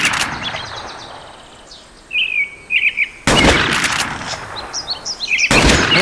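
Shotgun blasts at fowl in a Wii hunting game, Bass Pro Shops The Hunt: two loud sharp shots, one near the middle and one at the end, with chirping bird calls scattered between them over faint outdoor ambience.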